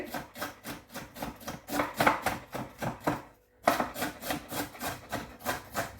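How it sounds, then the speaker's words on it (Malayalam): Quick, steady knife chopping cabbage on a board, an even rhythm of cuts with one short pause midway. "ക്യാബേജ് അരിയണം"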